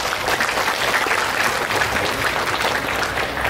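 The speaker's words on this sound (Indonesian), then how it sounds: "Mohon tepuk tangan." Steady, dense applause from an audience at a school event in Bandar Lampung launching a waste bank program and a school canteen, clapping continuously and fairly loud throughout with no pause.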